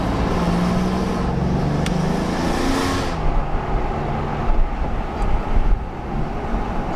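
Alfa Romeo Giulia Quadrifoglio, exhaust valves closed, cruising through a neighborhood with windows down: a steady, subdued engine and road hum with wind rush, a brief louder swell early on, then a calmer even drone.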